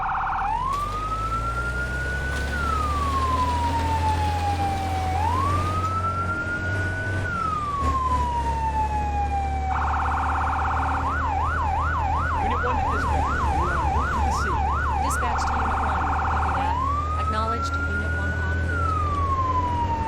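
A fire truck siren in the firefighting game Firefighting Simulator - The Squad wails in long rising and falling sweeps, shifts into a rapid yelp pattern, then returns to wailing, loud and steady over a low engine rumble.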